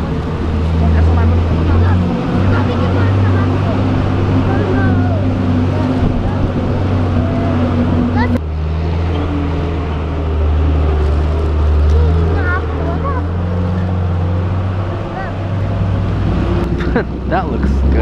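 Bus engine drones steadily from beneath the roof while riding on top through the Himalayan foothills of Nepal, a loud continuous low rumble with wind rush and passing road noise; people talk over it.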